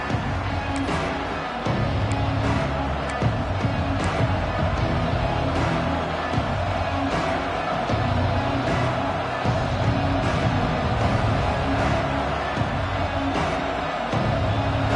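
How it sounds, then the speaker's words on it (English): Stadium crowd at a Northwestern versus UCLA college football game: a continuous broad roar of many voices that rises and falls, with a play-by-play commentator speaking over it throughout. "This crowd ready to make its presence known"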